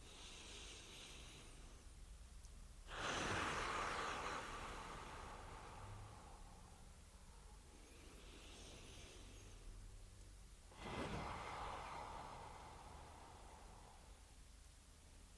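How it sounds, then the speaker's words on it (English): Two slow, controlled exhalations through the mouth, each a long soft breathy hiss that swells then fades, separated by quiet pauses; close and calm, with no talking. "Exhale through my mouth."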